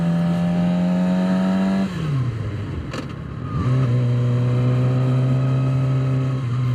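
Suzuki GSX-R 600 motorcycle engine holding a steady loud rev, dropping briefly near two seconds as a gear is shifted, then climbing back to a steady high drone, close and alone.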